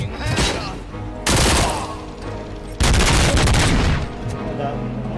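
Video game gunfire in RoboCop: Rogue City: loud, dense bursts of rapid shots erupt twice, each a sustained volley, with quieter rattling fire in between and trailing off toward the end.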